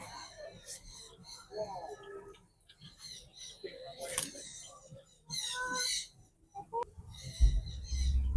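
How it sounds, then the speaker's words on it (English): Java sparrows in an aviary at Costa Maya give soft, scattered chirps and short calls, moderately close, mixed with people talking nearby on a humid day. "Java sparrows."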